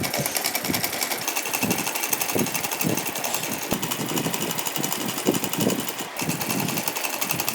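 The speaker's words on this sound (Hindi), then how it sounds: "इस तरह से हम पहले रेड साइड में एक सिलाई लगा देते हैं" Sewing machine stitching red fabric for a doll outfit, a fast steady mechanical whirr with rhythmic needle clatter running close and unbroken throughout, no voices.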